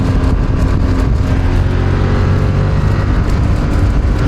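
BMW F900R motorcycle accelerating hard on a motorway in dynamic mode, a loud continuous engine roar with wind rush, close and sustained with no break.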